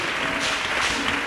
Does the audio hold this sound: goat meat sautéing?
no